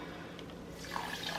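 Water poured for elderberry tea in a home kitchen, a soft trickling stream that grows brighter and splashier partway through, quiet and close with no talking.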